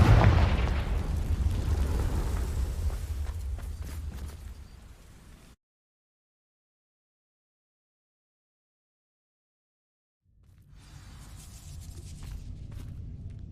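Cast at dry vines in Hogwarts Legacy, the Confringo fire spell erupts in a loud roaring burst that fades over about five seconds into silence, before softer game ambience returns.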